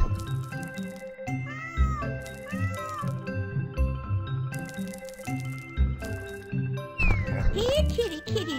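A cat meows over and over in the video game Granny Winter Wonderland, with short rising and falling cries repeating steadily over dripping and other game sounds.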